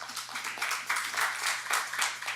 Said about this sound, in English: So another round of applause for USAID.